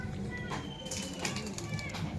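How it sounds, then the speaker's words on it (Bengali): Pigeons in a loft of some fifty or sixty birds flap their wings in soft, fluttering bursts close by, with a low murmur of voices and activity underneath throughout. "পঞ্চাশ ষাটটা মতো পায়রা আছে"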